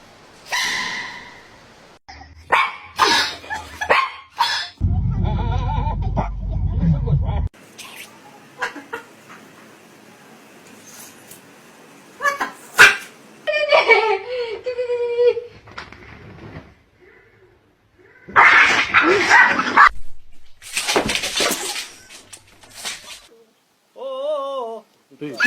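Dogs bark and whimper in scattered bursts between quiet gaps, with brief loud yelps and whines, and people speak at times.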